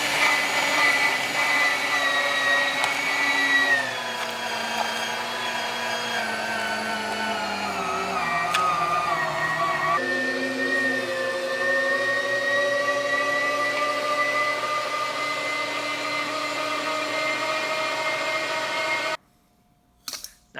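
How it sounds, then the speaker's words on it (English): A meat grinder churns wild hog meat and bacon in a loud, continuous motor whir with shifting pitch that runs nearly twenty seconds before cutting out abruptly. "After an hour, grind the meat and place in a non-reactive bowl."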